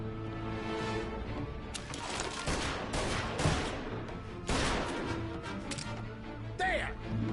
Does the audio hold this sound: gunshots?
yes